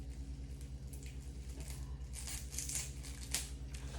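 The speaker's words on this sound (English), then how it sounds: "I'm going to cut up some cilantro" A knife chopping fresh cilantro on a board, with quick soft cutting strokes over a low steady hum, close and fairly quiet, no voices.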